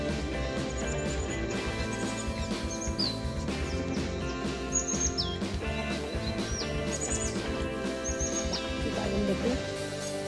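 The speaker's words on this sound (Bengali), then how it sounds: "কি পাখির আওয়াজ কিচিরমিচির কিচিরমিচির করছে" Several kinds of birds in Kalimpong give short, repeated chirps and tweets that rise and fall, layered over a steady tonal background hum.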